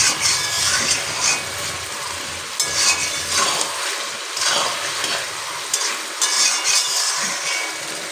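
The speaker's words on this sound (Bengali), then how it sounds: "এবারে আমি সুন্দর করে কিন্তু মশলা টশলা দিয়ে কষিয়ে নেব" Spices frying with boiled mutton in a pan, a loud close sizzle broken by repeated scraping strokes of a spoon stirring in bursts roughly every second or two.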